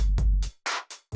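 A beat run through the gate color effect on a Pioneer DJM-900NXS2 mixer, chopped into short bursts of kick and noisy hits separated by abrupt silences, loud and close.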